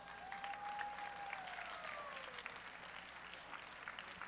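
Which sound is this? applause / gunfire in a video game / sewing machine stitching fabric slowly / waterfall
applause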